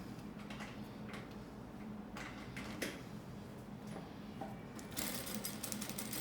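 Sewing machine running a first safety seam through fabric placed right side to right side, a steady mechanical stitching chatter with soft ticks at moderate volume, with no talking over it.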